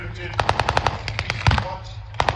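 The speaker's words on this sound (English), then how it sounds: "They've got Thompsons, they've got a BAR, Brand automatic rifle. And the idea is to lay down as much fire as you can." Thompson submachine guns and a Browning Automatic Rifle firing in a WWII battle re-enactment at a tank museum show: loud bursts of rapid automatic shots, with a short pause and then another burst, heard outdoors under faint talk.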